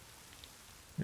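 Rain falls steadily over a village with roofs and overhangs in the Witcher 3 video game, a soft, even patter that stays quiet and continuous, with a brief louder bump at the very end.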